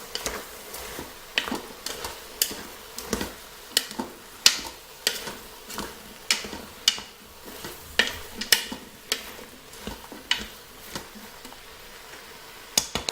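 Spoon stirring turkey, mushrooms and sliced carrots browning in a Cookeo multicooker, a steady run of distinct scraping knocks against the pot with a soft sizzle underneath, no talking.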